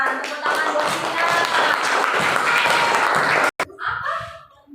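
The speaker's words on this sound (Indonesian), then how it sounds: "Tepuk tangan buat Sina." Schoolchildren in a classroom clap together in a dense, lively burst with voices and some laughter mixed in. The clapping cuts off abruptly and is followed by quieter talk.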